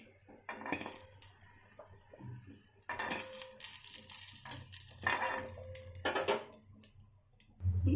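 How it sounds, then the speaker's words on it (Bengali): Fried lentil fritters of khesari dal are lifted out of a frying pan in a home kitchen, with repeated metal scraping and clinking of a utensil against the pan over a low sizzle of oil, close and moderately loud. "বড়াগুলো লাল লাল করে ভেজে নিয়েছি, তুলে নিচ্ছি"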